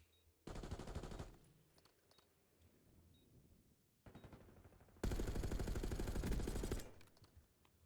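Bursts of automatic gunfire in a competitive first-person shooter match, rounds punched through a wall: a loud rapid burst, quieter scattered shots, then a longer sustained loud volley, no talking.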